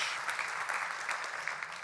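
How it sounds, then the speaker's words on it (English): An audience at a farming conference session claps steadily, a dense wash of handclaps that is moderately loud and sustained throughout. "you're going to give them individual applause, which is fantastic"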